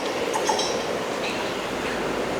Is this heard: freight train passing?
yes